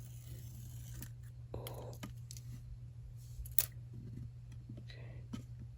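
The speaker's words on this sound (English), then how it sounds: "They have their little protective layer, so I'm gonna peel that off so we can stick on the tiles" Protective film is peeled off tiny tiles for a miniature ice cream shop kit, soft intermittent scraping and crinkling close up, with small clicks and a brief whispered word.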